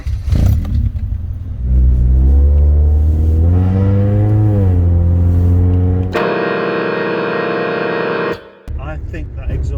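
A Rover 416GTi's loud exhaust booms and rises in pitch as the engine revs up and settles, close and strong, followed by a steady high drone and a brief clatter near the end.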